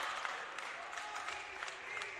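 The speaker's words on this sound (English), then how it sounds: "Mari Mao getting a lot of love from the crowd." Crowd at a high school varsity basketball game cheering and clapping for a player after a hard foul, a steady distant roar with scattered claps throughout.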